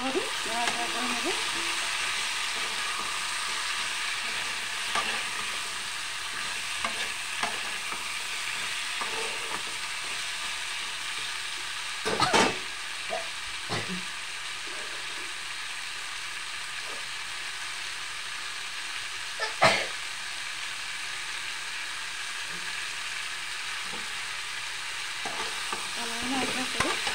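Dried fish curry with salt and turmeric sizzles steadily in a pan, broken by occasional spoon scrapes and taps over a continuous frying hiss.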